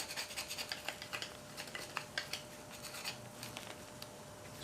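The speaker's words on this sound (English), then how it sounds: "I just scrape most of the crud off" Scraping old gasket crud off a part of an antique Briggs & Stratton lever-start engine, a steady close rasping scratch of a tool on metal, continuous and fairly quiet, with no talking.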